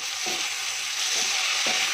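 Spinach and eggplant stir-fry with chilli powder and green chillies over a medium flame, a steady hiss of frying broken by three soft stirring scrapes.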